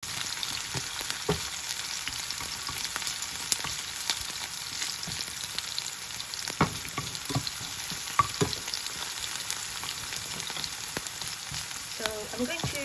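Hot oil sizzles in a pan with the heat off, a steady close hiss and crackle for a carrot zucchini salad sauce, punctuated by occasional sharp pops and a brief stir toward the end.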